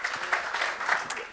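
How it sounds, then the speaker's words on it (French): An audience at a Syntec Numérique business event in September 2019 applauds steadily, a dense wash of clapping with no speech. "Applaudissez Mélane, qui va nous rejoindre."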